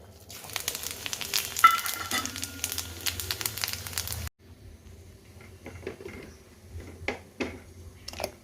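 Panch phoron and dried red chillies hit hot oil for a khichuri tempering, giving a steady close sizzle that cuts off midway into quieter, sparse crackling and stirring clicks.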